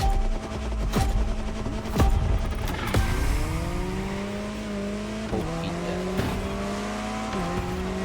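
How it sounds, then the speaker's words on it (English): A Jaguar CX-75 concept car in the racing game The Crew Motorfest revs hard and loud, with engine pitch climbing and dropping through several quick gear shifts and a brief tire squeal. "The Jaguar CX-75 concept."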